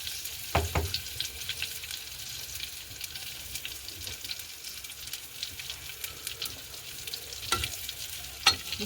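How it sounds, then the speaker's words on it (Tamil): Eggs deep-frying in hot oil, a steady bubbling sizzle broken by a few sharp clinks and scrapes of a utensil turning them. "எண்ணெய் கொதிச்சிட்டு நாங்கள் ரெண்டு ரெண்டு முட்டையாக போட்டு பொறிச்செடுக்க போகிறோம்"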